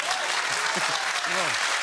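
Studio audience applause at a French television show, a dense steady clapping from a crowd with voices talking and laughing over it, close and continuous.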